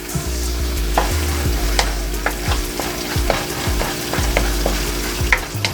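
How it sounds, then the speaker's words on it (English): Garlic and onion sauteing in a hot pan for Filipino Bicol Express, a steady close sizzle broken by repeated scraping stirs of a utensil against the pan, with a low hum underneath. "We're also going to throw the garlic as well. So garlic and onion together."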